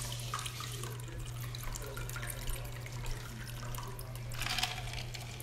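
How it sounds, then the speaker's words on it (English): A sugared mixed drink is poured into a glass without a strainer, making a faint, steady trickle of liquid with a slightly louder splash near the end. "Just gonna pour this in."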